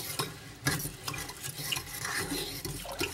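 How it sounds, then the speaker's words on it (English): Stirring seasoning and infused oil in a pan for vegan meatless crumbles, repeated close scraping and clinking strokes of a utensil against the pan over a light sizzle. "Just gonna stir this around."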